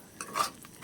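Vegetables being stirred in a frying pan on a lowered gas flame, giving a few soft scraping swishes and a sharper utensil clatter at the end, close and quiet, with no talking.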